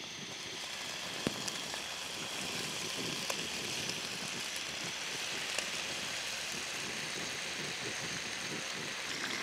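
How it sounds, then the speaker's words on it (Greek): Chicken fillet sautéing in hot oil in a pot gives a steady, dense crackling sizzle, close and even throughout with a few sharper pops and no talking. "Περιμένουμε να κάψει και σοτάρουμε το κοτόπουλο."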